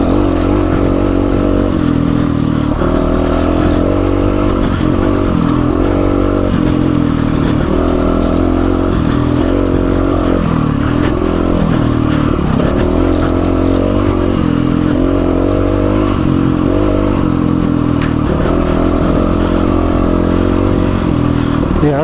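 A GPX FSE300R motorcycle rides along with a steady, loud engine drone and shifting revs running throughout, joined by clattering road and wind noise.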